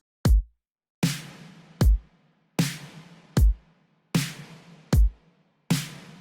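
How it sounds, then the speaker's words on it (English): Pop drum beat programmed with kick and snare together, four on the floor, snares on the twos and fours: eight punchy hits alternating a deep thumping kick with a bright, noisy snare that rings out briefly, loud and alone. "All the snares together with the kick drums sound like this."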